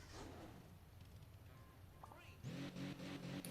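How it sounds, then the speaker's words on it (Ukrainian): A muscle car engine in the mobile game Hill Climb Racing 2 revs with a steady droning tone that jumps louder and more tonal in the last second, heard beneath ongoing background sound. "Чуєте, як двигунчик реве."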